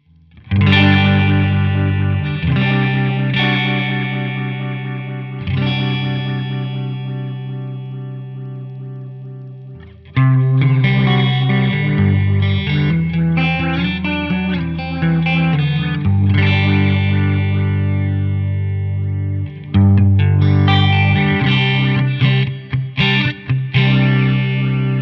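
Distorted electric guitar chords pass through the rotary setting of a Flamma FX20 modulation pedal, swirling and pulsing with sustained strums, louder restrikes and quick choppy notes near the end, close and unaccompanied by talk.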